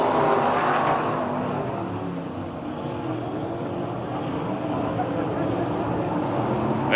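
NASCAR Winston late model race cars racing at Raven in 1987, a loud, continuous roar of several engines close by that swells slightly at the start and holds steady throughout.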